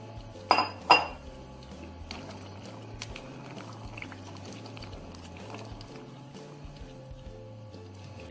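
A whole 500 g pack of pasta goes into a pot of water, two sharp clattering thuds up front followed by quieter clinks and soft kitchen noise over a low steady hum.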